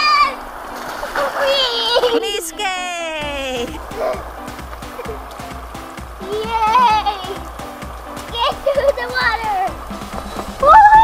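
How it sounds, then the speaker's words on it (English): Children splashing water in a toy splash pool outdoors in summer, with scattered splashes and splatters under excited child chatter and squeals, loud and close throughout. "Water! Woohoo! Splash!"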